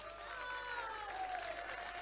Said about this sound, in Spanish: esta mitad puede ser un aplausito para empezar con ganas.